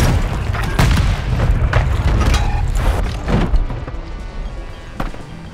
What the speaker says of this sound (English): Dude, Clutch Cowboy is using a grenade launcher.